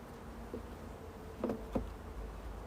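Honey bees buzzing at close range during a hive inspection: a faint, steady hum with a few brief louder passes of individual bees, and no voices.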